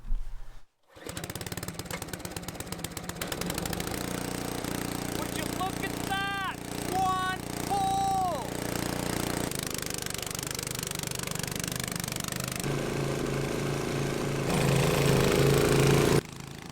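A gasoline-powered verticutter runs on a lawn in spring with a continuous, rattling engine drone and the chatter of its blades, close by and steady, and a voice briefly speaks over it midway.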